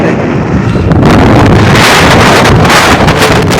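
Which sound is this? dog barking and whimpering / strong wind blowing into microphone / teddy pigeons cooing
strong wind blowing into microphone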